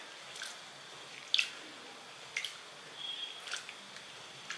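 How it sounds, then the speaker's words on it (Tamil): Rinse water drains from soaked flattened rice (aval) in a kitchen: faint, sparse wet drips and small splashes at irregular intervals over quiet room tone, with no talking. "இப்படி இந்த மாதிரி பண்ணி நல்லா அலசி கீழே ஊற்றிடுங்க தண்ணியை."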